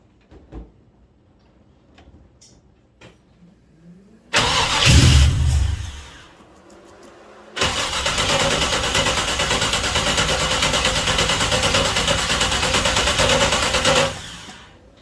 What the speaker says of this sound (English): let's see if this rotten bitch will fire and idle